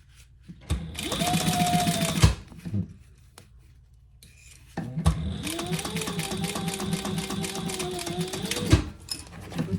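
A sewing machine stitches a glasses case pouch in two sustained whirring runs, a short one and then a longer one, separated by a quiet pause and close to the listener.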